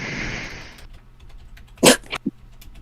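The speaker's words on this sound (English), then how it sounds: "That sounded like a sneeze." A single sharp sneeze bursts out during a quiet tabletop role-playing game session, preceded by faint background noise and followed by a couple of short, softer sounds.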